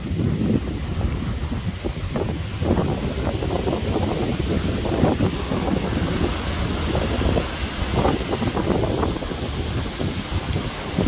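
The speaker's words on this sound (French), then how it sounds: "Il y a grosse tempête du Seigneur, c'est pas possible. Ce vent." A violent foehn storm wind roars continuously, buffeting the microphone with broadband rumbling gusts and rustling, loud and unbroken for about eleven seconds with no voices.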